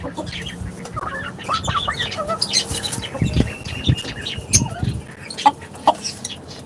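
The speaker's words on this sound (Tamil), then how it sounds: "இங்கே பாருங்க நம்மளோட இன்னொரு பெரிய சேவல்" Rooftop free-range country chickens in Chennai, with a large rooster clucking in short bursts close by, mixed with other fowl calls and chirps across the yard.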